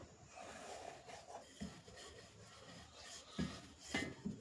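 Aloo paratha dough being rolled out into small rounds produces soft, quiet rubbing and rasping strokes in an uneven rhythm, with a few slightly firmer pushes toward the end.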